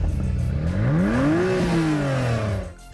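A red Acura NSX hybrid with a twin-turbo engine roars on a stage, its note climbing to a single loud peak and then falling away over about three seconds, close and unbroken.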